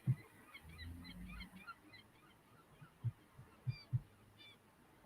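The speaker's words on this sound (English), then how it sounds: "I got seagulls outside." Several birds outside call with short, honking squawks at irregular intervals, fairly faint and distant, the sharp calls standing out above a low background murmur.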